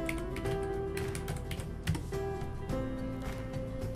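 Typing on a computer keyboard, a quick irregular run of light key clicks close by over a faint background hum, with no one speaking.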